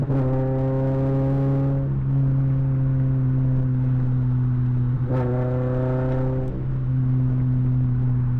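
A Subaru BRZ engine fitted with a JDL 4-2-1 header revs and idles close by, a loud droning hum that rises in pitch twice in quick blips before settling back to a steady idle.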